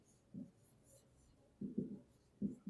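Pen or marker writing by hand while working a math exercise, three soft scratching strokes close by and faint, with quiet gaps between them.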